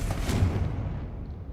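A Confringo blasting spell in the Hogwarts Legacy video game goes off as a single deep, rumbling explosion that swells briefly and then decays over about a second.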